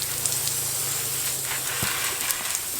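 Hose water spraying onto garden flowers, a steady close hiss of fine spray that runs unbroken for a few seconds with no voices.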